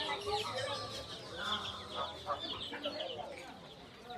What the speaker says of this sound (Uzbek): Ana sizlarga jo'ja, mana sizlarga jo'ja.